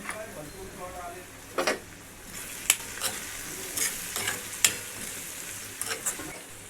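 Soft sizzling of spices and salt frying for soybean bhurji, with stirring and occasional sharp clinks of a utensil against the pan, close and fairly quiet.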